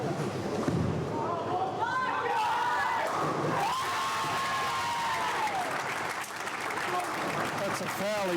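Round of applause from a crowd at a junior tenpin bowling matchplay cup, steady and fairly loud throughout, with voices talking and calling over it.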